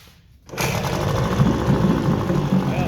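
An Evinrude 9.5 HP outboard motor starts up and runs with its hood on, a loud, steady, close-up putter with a slight exhaust-leak rasp, continuing alone after a brief quiet moment.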